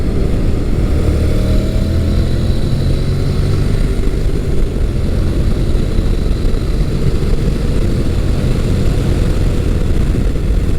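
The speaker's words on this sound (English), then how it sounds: "just as soon as the engine's going to get good, feels like it's going to come on power, it runs out of revs" A motorcycle engine on an adventure bike shootout ride, the Versys, NC700X, SCR950 or FJ-09, drones loudly and steadily at high revs near the 6,000 RPM limit, with heavy wind rush throughout and no talking.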